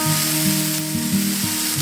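Pork stir fry with snow peas sizzles loudly in a pan, close and steady, with several soft stirring scrapes and knocks at regular intervals.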